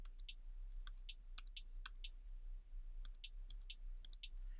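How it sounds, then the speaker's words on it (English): Closed hi-hat sample triggered from a computer keyboard in BandLab, sounding as short crisp ticks in an uneven sequence, about ten hits, clear and dry over a quiet background. "that's my closed hi-hat"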